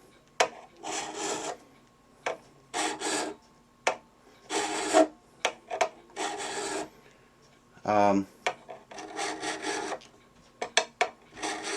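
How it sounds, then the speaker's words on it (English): A file rasps across worn frets on an old Harmony Rocket guitar, crowning them in repeated short strokes at close range, with a brief higher scrape partway through and quiet gaps between bursts. "This is just putting a little bit of a crown back on these frets where someone had flattened them."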